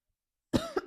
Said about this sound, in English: Random ass cough.